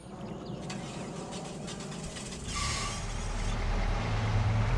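An old, rough-sounding truck engine in the video game Farm Sim 25, a low continuous rumble that swells louder partway through, with faint clicks and a hiss over it.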